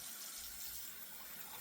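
Tap water running steadily into a sink bowl for a shave, a continuous soft hiss close by with no talking.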